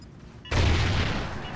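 A loud video-game gunfire burst starts abruptly after a near-silent opening and keeps up a dense, booming roar.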